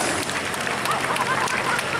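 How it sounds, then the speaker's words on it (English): A crowd at a night super modified tractor pull applauds, giving a steady broadband wash of clapping and cheering throughout with a few whoops on top. "Give him a big round of applause"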